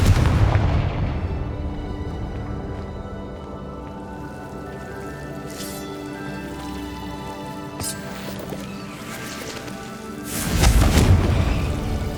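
Confringo explosive spell cast in the Hogwarts Legacy video game, with a loud booming blast at the start and another heavy burst near the end, separated by a lower rumbling game soundscape.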